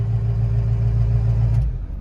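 A 6.0 Powerstroke race truck with an automatic transmission idles in drive, a deep steady diesel rumble close by that drops off near the end.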